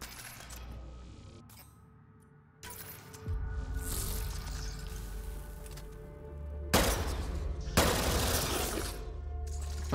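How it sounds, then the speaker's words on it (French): An assault rifle fires in bursts in Mass Effect Andromeda, loud broadband blasts of rapid shots separated by quieter gaps with a steady background hum. "c'est un fusil d'assaut pas précis du tout"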